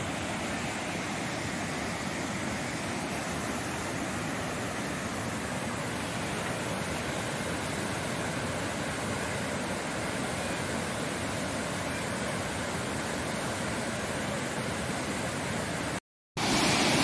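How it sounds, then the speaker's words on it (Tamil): A waterfall in the Javadhu Hills pours in a steady, hissing rush of broadband water noise, dense and unbroken apart from a brief dropout near the end. "இங்கே பாருங்கள், ஃபுல்லாக எவ்வளோ அழகாக தண்ணி வருது பாருங்கள். இதுதான் நீர்வீழ்ச்சி."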